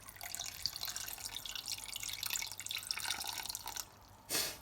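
Water trickles and drips into a pot of mutton and onions before pressure cooking, a continuous patter that stops near the end before a brief louder splash.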